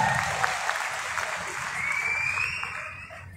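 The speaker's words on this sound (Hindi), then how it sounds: "जोरदार तालियां सबके लिए" Enthusiastic applause from an audience at an IMC direct-selling leadership event in Haridwar, a steady wash of clapping that holds for a few seconds with faint voices mixed in.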